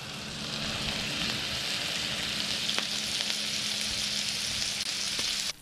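Toast and smashburgers sizzle steadily on a Blackstone griddle, a loud, even frying hiss that holds for the whole stretch with no talking.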